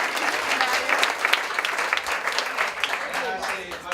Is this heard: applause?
yes